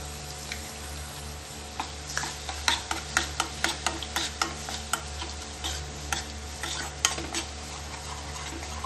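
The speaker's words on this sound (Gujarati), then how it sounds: "લસણને થોડીક વાર લાલ થવા દેશું." Crushed garlic sizzling in hot oil on a low gas flame for palak paneer, a continuous crackling fry with a run of sharp metal spoon taps and scrapes against the pan in quick rhythm.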